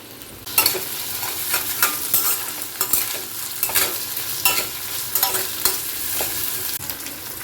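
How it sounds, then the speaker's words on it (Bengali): Ridge gourd and fried small shrimp are stir-fried over high flame: a constant sizzle broken by repeated sharp scrapes and clatters of a spatula against the pan, close and fairly loud, with no talking. "এবার আমি ভাজা চিংড়িটাও এর মধ্যে মিশিয়ে দিচ্ছি পুরোটা"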